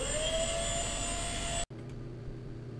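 A ParkZone F4U Corsair RC plane's electric motor running as new, a steady high-pitched whine with a sharp cutoff near the end, then a lower, quieter hum.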